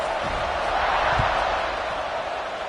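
A football stadium crowd buzzes after a score in the third quarter, ahead of a kickoff, a dense, steady roar of many voices with a few faint thumps underneath.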